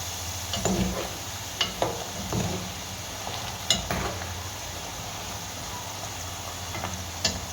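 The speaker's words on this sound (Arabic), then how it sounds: "هحط بقى شوية زيت يسخنوا وهنزل بالكبد كده والقوانص" Chicken liver and gizzards fry in hot oil with onion, garlic, black pepper and salt, giving a steady close sizzle broken by several sharp scraping knocks as they are stirred in the pan.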